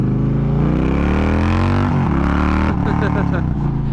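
An Indian Challenger motorcycle engine rumbles loudly as it is ridden, its pitch rising and falling as the rider works the throttle, with a rider's voice talking over it.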